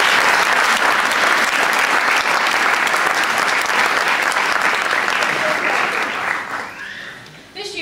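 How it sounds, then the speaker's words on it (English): A crowd applauds steadily and loudly for honor band students, dense clapping filling the room before tapering off near the end. "Let's give them all a round of applause."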